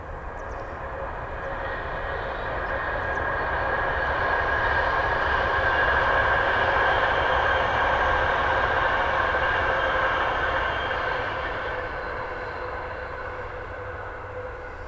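A jumbo jet at Birmingham airport sends out a long, steady engine roar with a droning hum, swelling gradually and then easing slightly as it passes at a distance, heard without any voices.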